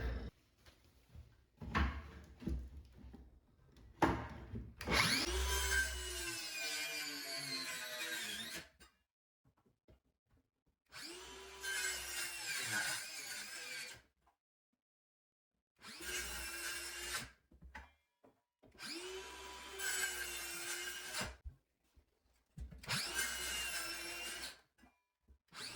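A Bosch 18V cordless circular saw makes a series of cuts into 2x lumber to notch it to 1 3/4 inches deep, each burst a loud whining rip with the motor spinning up and down, separated by short quiet pauses.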